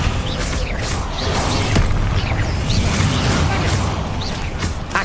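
Descendo spell slam in Hogwarts Legacy, heavy booming thuds and crashing impacts amid a dense, loud combat din with repeated whooshing bursts, close and continuous.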